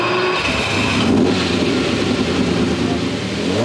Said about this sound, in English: There's a V12 under the hood, and we're gonna fire it up.